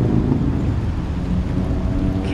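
Rain falls steadily at a pond in Inverness, Florida, a constant broadband patter with wind buffeting the microphone and no clear voice.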